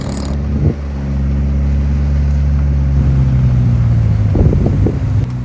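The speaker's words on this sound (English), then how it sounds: "there's a fishing boat coming in" A fishing boat's engine drones as the boat comes in to a harbour hangout on a Friday night, a steady, loud low rumble that holds evenly, with a brief knock near the start.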